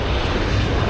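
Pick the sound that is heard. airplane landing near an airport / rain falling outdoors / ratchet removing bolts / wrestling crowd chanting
airplane landing near an airport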